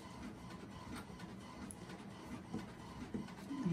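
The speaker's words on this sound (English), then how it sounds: "pardon my printer in the background" A faint printer whirring and clunking steadily in the background, low and continuous, with no one speaking.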